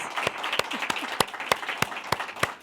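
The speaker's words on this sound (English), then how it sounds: "Let's give Stella another round of applause." Audience applause after a talk by a book author at a speaking event, a steady wash of many hands clapping with sharp individual claps popping out, fairly close and continuous throughout.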